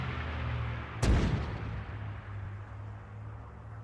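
A single artillery gun fires in Arma during a Sicily campaign training exercise, one sharp loud boom followed by a long rumbling echo that fades over a low steady hum.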